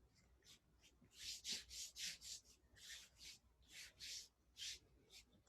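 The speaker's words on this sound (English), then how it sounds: "Rubbing the hands." Palms rub briskly together in a self-massage wake-up routine, a run of about ten soft, rhythmic swishing strokes, close and fairly quiet with no talking.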